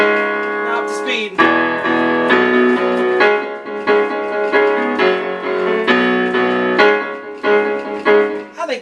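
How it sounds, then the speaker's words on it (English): Solo piano playing the electric guitar part of a song, a steady rhythmic run of repeated chords and single notes, close and clear with no other sounds. "I think that's a pretty good imitation of the electric guitar part on the piano"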